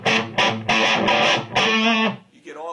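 An electric guitar played through an amp at half power with the treble and volume turned almost all the way up gives loud, distorted, bright chord strikes in several sustained bursts before fading out.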